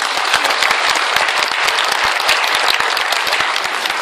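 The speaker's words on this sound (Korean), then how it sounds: "우리 젊은 청년인데 박수 한번 크게 하자." An audience at an indoor public gathering breaks into loud, sustained applause, dense overlapping claps filling the whole stretch with no voices on top.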